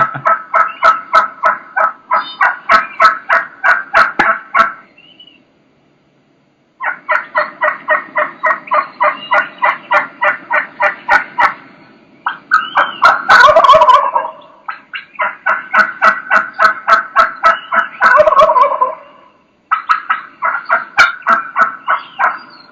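A wild turkey gobbler gobbles loudly and close during western-style turkey hunting, with long runs of rapid rattling gobbles broken by brief pauses and some raspier cutting calls mixed in.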